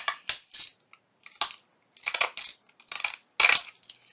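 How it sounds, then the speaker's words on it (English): Small pinking shears snip around the edge of a paper Valentine card, a series of short, crisp crunching cuts in uneven bursts with quiet pauses between, close and clear with no talking. "So just going to go all the way around with my little pinking shears."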